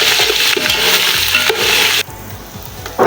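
Chana pulao masala sautés in a pan with a steady, close, loud sizzle and frying crackle and occasional stirring scrapes; the sizzle drops somewhat softer about two-thirds of the way through.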